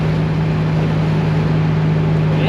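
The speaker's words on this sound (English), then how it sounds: "exhaust definitely sounds better" Low, steady engine drone with a deep exhaust hum heard from inside a moving 500 hp Nissan Silvia S15, constant and fairly loud with no talking.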